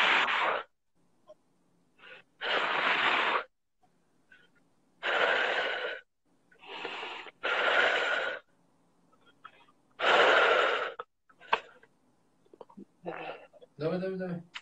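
A person breathes heavily through an individual therapy session focused on trembling and tension in the body, with about eight loud, close exhales in irregular bursts, some drawn out for a second, separated by quiet gaps.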